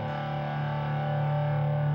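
A sustained distorted electric guitar power chord in D tuning rings out loud and steady, part of a D5, F5, G5 progression, with no talking over it.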